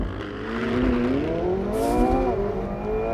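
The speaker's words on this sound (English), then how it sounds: "All I have to do is floor the throttle, boost is building" A 2020 McLaren 720S Spider supercar engine roars hard and close in launch mode, its pitch climbing steadily as it accelerates, with a brief burst of turbo hiss midway through.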